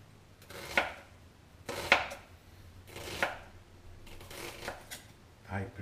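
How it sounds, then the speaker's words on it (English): Knife chopping red onions on a cutting board during Greek-style pasticcio prep, with several separate sharp chops spaced about a second apart, close and moderately loud, over a faint background hum. "Chop the onions."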